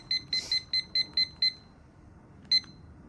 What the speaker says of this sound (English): And then I'm going to find my timer.